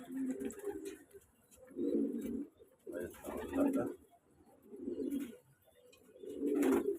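A newly acquired pair of pigeons cooing in a rooftop loft, several rounds of soft, throaty coos in a steady rhythm, fairly close, with a brief line of speech over one of them.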